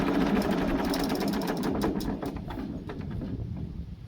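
An old engine runs steadily after repair, during farm preparation for the last harvest, its dense mechanical chatter loud and continuous throughout, easing slightly toward the end.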